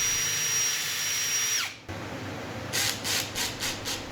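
A power drill drives screws into MDF while a basic cabinet and drawer are built. A steady motor whine runs close and loud, then cuts out; after a brief pause come several short whirring bursts, with no talk.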